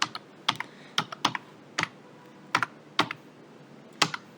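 Fingers tap on a computer keyboard in short separate bursts of a few keystrokes each, crisp and close, with brief pauses between bursts and no talking.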